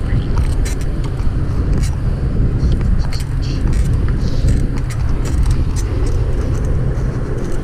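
Traffic at a street intersection, with a steady rumble of car engines and tires rolling past at close range, continuous and fairly loud.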